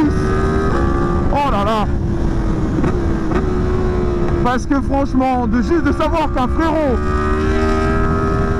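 A Yamaha MT-10 motorcycle engine runs steadily throughout, its drone sitting under continuous excited French speech, with a few higher revving swells in the middle of the clip.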